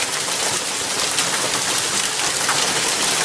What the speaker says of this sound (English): First time I ever got hail on recording.